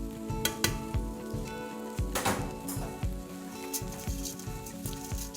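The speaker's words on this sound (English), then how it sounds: "I will add 1 cup of black lentil." Black lentils tumble into a pan of frying onion and potato, bringing a steady close sizzle with rhythmic scraping stirs and occasional sharp clinks of a utensil against the pan.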